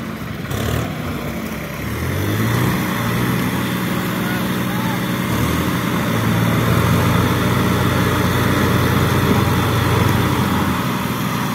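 A tractor engine runs continuously at a heavy, low rumble while pulling a trolley stuck in a field, loud and unbroken for over ten seconds, with voices of people talking beneath it.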